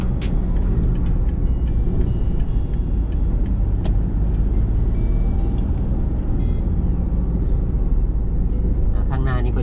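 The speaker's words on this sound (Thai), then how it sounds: "รถติดนิดหน่อยนะครับ" Steady road traffic crawling slowly near Bang Khae market in Bangkok: a continuous close hum of cars and buses, with a brief hiss like an air brake near the start and faint speech over the top.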